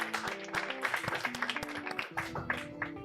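A studio audience at a French-language talk show taping claps together, dense applause carried over background music with a sustained tone underneath, steady and fairly close for the full stretch.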